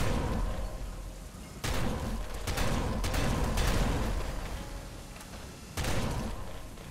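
Missiles and gunfire bursting in Nuclear Throne, loud rapid volleys of blasts and booms in clustered bursts separated by brief lulls, continuous chaotic game combat.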